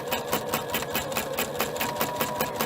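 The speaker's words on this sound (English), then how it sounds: "I'm going to stitch right on top of it." A sewing machine stitches along a garment neckline, its needle hammering in a fast, even rhythm that runs continuously and close up, loud and alone.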